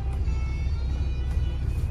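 A 2016 Kenworth T680 truck engine runs at a steady idle, a close, even low rumble with a constant hum and no voices.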